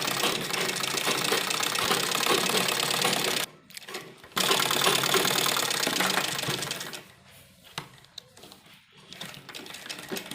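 A sewing machine stitches a child's dress for a two-to-three-year-old, running loud and steady with a brief pause midway, then continuing in shorter, quieter bursts with gaps toward the end.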